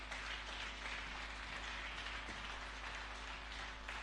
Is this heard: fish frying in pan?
no